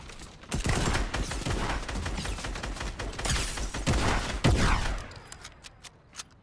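Rapid gunfire in the video game Fortnite: a dense, close string of shots runs for about four seconds, then tapers into a few scattered clicks and quieter clatter.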